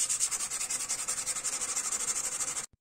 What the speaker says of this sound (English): fine sanding